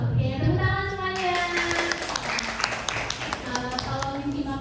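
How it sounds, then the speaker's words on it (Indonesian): Audience clapping hands at an event, a burst of many overlapping claps over music and cheering voices, lasting a few seconds at moderate volume. "tepuk tangan semuanya."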